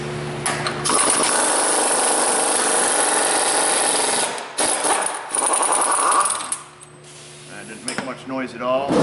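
A power tool runs a lock nut onto the lower ball joint axle of a Dodge Grand Caravan, a loud continuous whirring and grinding that pauses briefly and resumes in bursts near the end.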